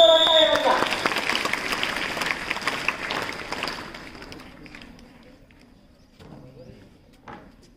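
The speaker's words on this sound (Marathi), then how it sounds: "विद्यार्थ्यांनी जोरात टाळ्या वाजवा।" Students clap loudly at a school award ceremony, the applause strong at first and then thinning out and fading over several seconds, with a few late claps near the end.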